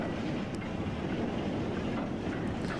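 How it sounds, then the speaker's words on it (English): A heavy goods train rumbles past close by on a heritage railway, with a steady low roar and faint rhythmic clatter of wagons on the rails. "lovely to see a goods train"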